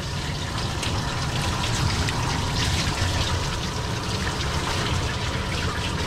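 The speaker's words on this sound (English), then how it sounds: "Just gonna rinse everything." Running water rinses a matted dog's coat during grooming, a close, continuous splashing stream with no voices.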